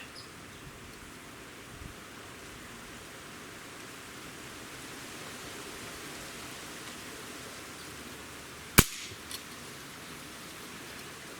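A Magnum breakbarrel air rifle's trigger is pulled against a Lyman trigger gauge, giving one sharp, close click near the end of an otherwise quiet stretch of faint hiss.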